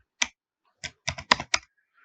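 Keys clack on a computer keyboard while an online freelancing profile form is filled in, a few quick, close taps, one isolated and then a tight burst of four or five.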